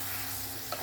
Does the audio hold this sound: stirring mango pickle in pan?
yes